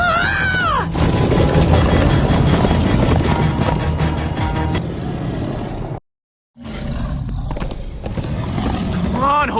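Horses galloping in the Minecraft Story Mode video game, with rapid clip-clop hoofbeats under a loud, busy game mix of music, effects and shouting voices, briefly cutting out to silence midway before resuming.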